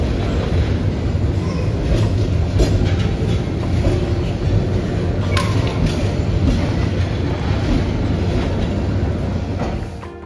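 Passenger train running on rails, a loud steady rumble from inside with rhythmic clickety-clack of the wheels and occasional squeaks, no speech.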